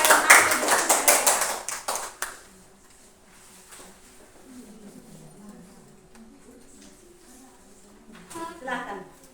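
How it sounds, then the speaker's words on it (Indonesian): A classroom group claps for about two seconds, a quick burst of many hands close by, then fades into quiet room sound with soft voices and a student beginning to speak near the end. "Mari kita sambut kelompok 1 dengan tepuk tangan."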